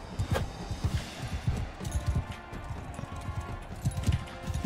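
Horses gallop in the medieval combat game Mount and Blade 2 Bannerlord, a rapid, continuous run of clip-clop hoofbeats, fairly loud and close, with battle noise faintly underneath.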